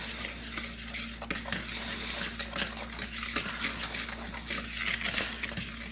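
Pancake batter made with flour, sugar, baking powder and regular milk is mixed in a bowl, a steady scraping swirl with light clicks of the utensil against the sides, continuous and close with no talking.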